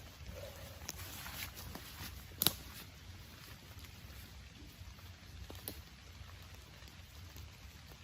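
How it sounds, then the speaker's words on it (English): Soft, steady rain patters close by, with a few sharper drops landing now and then in an otherwise quiet outdoor setting. "try to get a shelter from this rain here"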